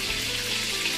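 Butter and olive oil melt and fry in a pan, giving a steady, bright crackling sizzle that stays even throughout without any voices.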